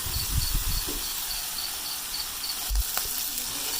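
Masala frying in a pan for a black chickpea curry, a soft, steady sizzle with a few low knocks and spoon scrapes against the pan, close and fairly quiet, no voices.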